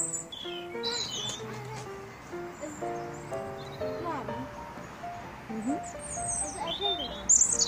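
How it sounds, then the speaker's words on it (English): Birds chirp and tweet in scattered bursts against a quiet outdoor background, with a few higher calls toward the end. "Don't the birds sound awesome?"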